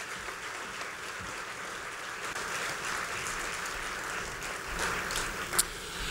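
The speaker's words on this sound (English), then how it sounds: "So if we could give them a huge round of applause as a great family from Port Coquitlam." Audience applause for a family from Port Coquitlam, a soft, steady patter of clapping from a moderately sized crowd that swells slightly near the end, with one sharp clap standing out.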